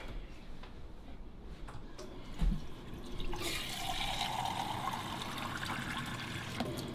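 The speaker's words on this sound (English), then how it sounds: "we're gonna have to add a little water to that" Water poured into a pot of homemade Brunswick stew, a soft steady splash and trickle that begins after a quieter stretch and continues to the end, fairly faint and close, with no talk.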